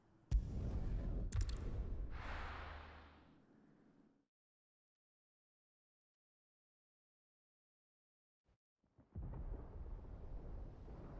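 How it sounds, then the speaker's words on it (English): Rumbling thunder in a Final Fantasy video game, a loud crack and rolling boom that fades out over a few seconds, followed by silence and then another swelling rumble. "Sounds like thunder"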